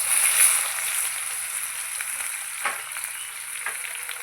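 Chopped onion hits hot oil in a pan, giving a steady, close sizzle that swells at the start and stays even, with a few faint stirring scrapes, for a Bengali katla fish and pumpkin curry.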